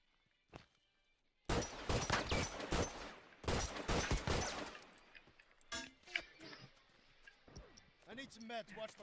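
Rapid gunfire bursts from a shooter video game come in loud, dense volleys, followed by scattered single shots and quieter clicks as players talk over the action.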